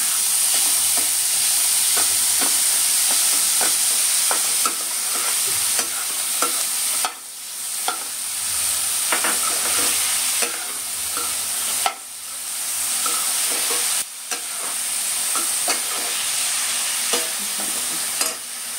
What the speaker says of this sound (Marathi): कांदा असा छान परतला गेला पाहिजे.